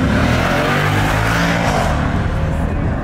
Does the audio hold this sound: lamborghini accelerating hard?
yes